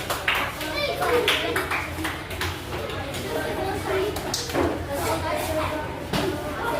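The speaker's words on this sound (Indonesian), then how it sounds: "bagi tepuk tangan buat kelompok terakhir." A classroom of students claps for the last group, the scattered, uneven hand claps mixed with lively children's chatter and voices throughout.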